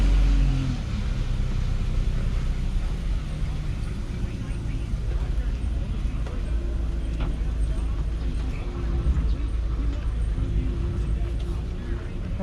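Lifted Geo Tracker driving along with a steady low engine rumble and road noise from inside the cab, constant and fairly loud throughout.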